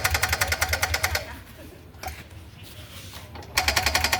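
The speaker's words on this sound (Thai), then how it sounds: "แกนฟิลาโนนะครับที่มีอาการ เสียงดังที่เครื่องนะครับ" A Yamaha Grand Filano scooter with a noisy engine, a cracked valve guide and bent valve, runs with a rapid rhythmic ticking clatter close by, fading to a quieter stretch before the fast knocking returns.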